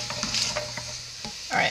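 Carrots and chuck roast sizzle in a pot while a utensil stirs them, with soft scraping strokes and a brief louder swish near the end.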